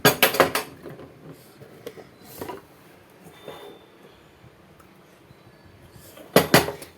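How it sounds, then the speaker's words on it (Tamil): A utensil mashes cooked dal in a metal pot, producing scraping clinks and clanks in short bursts near the start and end, with quieter rustling in between. "பருப்பு நல்லா குழஞ்சிருச்சு கீழே போட்டு போறேன் இந்த மாதிரி நல்லா மசிஞ்சிக்கணும்"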